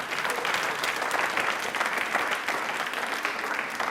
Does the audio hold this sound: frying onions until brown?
no